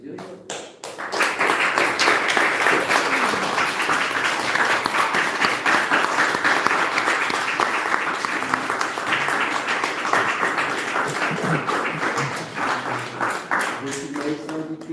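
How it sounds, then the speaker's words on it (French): Applause at a town hall wedding ceremony in France, a sustained, dense burst of clapping from a gathered room, close and loud, fading slightly near the end as a voice begins. "Et donc, voilà, vous pouvez les applaudir."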